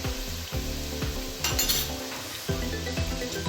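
Garlic ginger paste sizzles steadily in a hot pan while a spoon scrapes and clinks against the metal in a loose, repeating rhythm.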